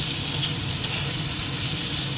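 Constant loud sizzling of food frying in hot oil in a wok (kadai), close up and unbroken, with a faint scraping stir underneath.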